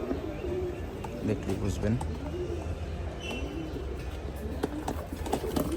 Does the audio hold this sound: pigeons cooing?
yes